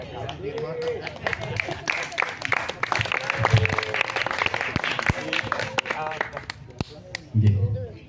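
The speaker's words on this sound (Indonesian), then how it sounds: "Tepuk tangan sekali lagi nggih untuk Pak narasumber kita." An audience at an evening gathering claps for a guest speaker, a dense burst of applause mixed with crowd chatter, while someone talks over it.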